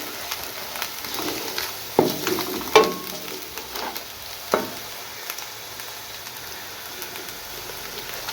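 Chilies and cumin frying in a pan: a steady, fairly quiet sizzle and crackle, broken by a few sharp clinks and scrapes of stirring, with no speech.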